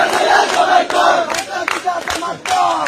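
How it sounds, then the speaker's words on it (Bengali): A crowd of BNP supporters in Bangladesh chants political slogans in loud, rhythmic bursts of shouting, several voices in unison repeating short phrases. "ইলেকশনে জিতে আওয়ামী লীগের স্লোগান দিতেছে বিএনপি"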